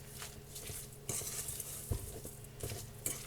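Tuna patty mixture being mixed in a bowl, with soft, irregular scraping and tapping of a utensil against the dish, quiet and close, with a few sharper clinks.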